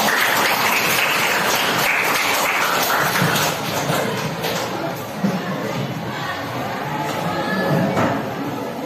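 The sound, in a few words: applause for a student group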